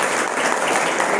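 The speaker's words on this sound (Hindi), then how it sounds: "हम आप सबों से अनुरोध करेंगे एक बार जोरदार तालियों के साथ" A crowd at a college gathering for Ambedkar Parinirvan Diwas applauds, steady dense clapping throughout with no pause.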